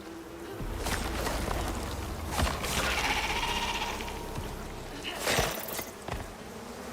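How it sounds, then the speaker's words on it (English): Bees buzz in a cave in the video game Icarus, a faint droning hum under brief clicks and game effects. "There's the bees. There's the bees."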